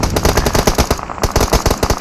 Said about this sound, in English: He hears those shots.